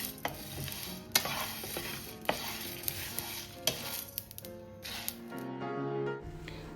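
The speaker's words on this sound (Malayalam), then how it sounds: "ജീരകം ചെറുതായി പൊട്ടാൻ തുടങ്ങുമ്പോൾ ഇത് ഓഫ് ചെയ്യുക." Cumin and whole spices for a homemade Mandi masala crackle and pop as they dry-roast in a pan, with sharp scattered snaps over a soft sizzle and the scrape of stirring.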